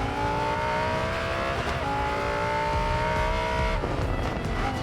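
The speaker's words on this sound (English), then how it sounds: "Oh, the engine sound." A race car engine revs hard and steadily in the Racing Master video game, a loud, continuous growl that dips briefly and climbs again, with no talking.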